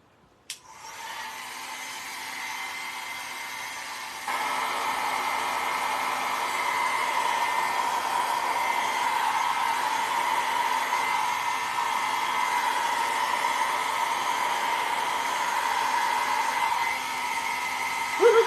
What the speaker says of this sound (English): Got my hair dryer for a low.